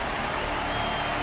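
Steady crowd applause from a fight arena in the video game Honkai: Star Rail, a broad, even wash of clapping, moderately loud and continuous for a brief moment.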